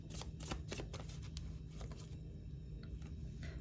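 Tarot cards are shuffled by hand during a card reading, a close, quiet run of rapid papery riffles and soft slaps repeating in quick bursts, with no talking.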